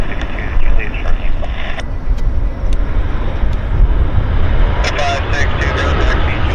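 An Air Canada airliner taxiing at Vancouver Airport gives off a steady broadband engine rumble and hiss, fairly loud and continuous, with faint radio-like voices over it.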